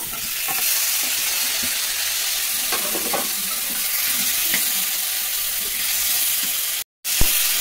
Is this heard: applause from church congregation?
no